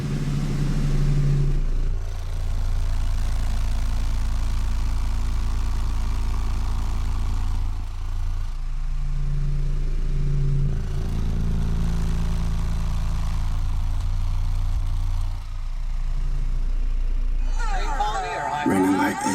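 A car engine runs held steady near 2,000 RPM, a loud continuous low rumble with slight swells, while voices talk over it and a brief higher rattle comes near the end.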